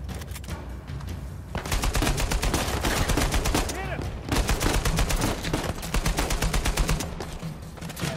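Rapid bursts of automatic gunfire in the action video game Uncharted 4, loud and sustained over several seconds with brief gaps between volleys, a voice faintly underneath.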